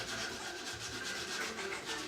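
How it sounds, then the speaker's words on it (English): Steady, close rubbing and sanding on a Baja Warrior minibike build with a Predator 301 engine, a continuous abrasive scratching with no pauses. "A little sanding"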